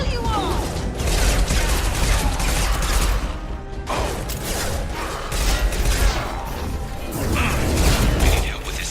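Gunfire in Mass Effect 2, dense rapid bursts of shots and mechanical clatter in a chaotic firefight, loud and near, with brief lulls between volleys and some voices mixed in.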